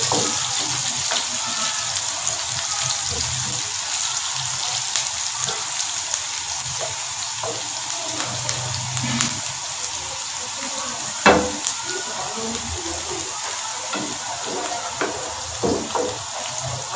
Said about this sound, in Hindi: प्याज को इतना ही फ्राई करना है जिसका थोड़ा सा कलर चेंज हो जाए, ज़्यादा ब्राउन नहीं करना।